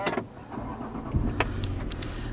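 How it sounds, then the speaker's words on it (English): A Jaguar XF starts from cold: a short crank and catch, then a steady engine hum with a few faint mechanical clicks, heard alone up close inside the car. "You'll notice now when I do a cold start"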